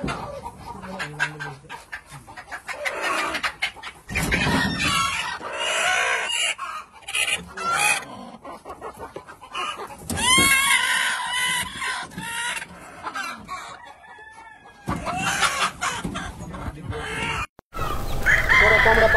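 Free-range country chickens in a poultry shed, with hens clucking busily and roosters crowing over a continuous, dense flock chorus that stays loud and close throughout.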